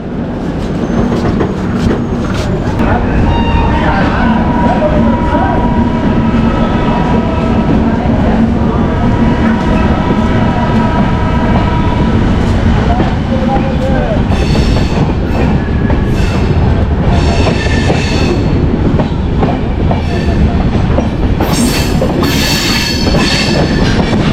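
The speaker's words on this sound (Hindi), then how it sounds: "और ये ट्रेन हमारी चल दी।" Gorakhpur Express passenger train pulling away from a station, a steady loud rumble with clattering wheels and faint squeals building over time, with no talk.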